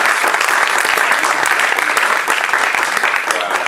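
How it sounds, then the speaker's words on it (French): A church congregation in Gisors applauds its pastor with loud, dense, sustained clapping that fills the whole stretch without a break. "On acclame pour votre pasteur"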